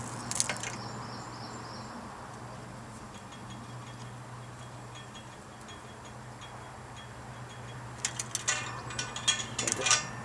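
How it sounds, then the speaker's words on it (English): A J-bolt on a washing line kit being tightened by hand gives a few faint, scattered metallic clicks and creaks, mostly near the end, over a steady low hum. "Tighten up your J-bolt."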